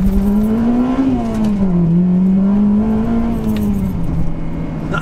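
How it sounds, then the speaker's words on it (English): Honda Civic engine droning steadily from inside the car while driving, its pitch rising and falling gently with the throttle, loud and close with no talk. "let's go for a drive in the Civic"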